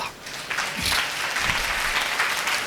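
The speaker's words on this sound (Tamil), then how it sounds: "கைத்தட்டு பார்க்கலாம்." A church congregation claps together during a Tamil sermon, a dense, steady wash of hand claps filling the room for a few seconds with a faint voice underneath.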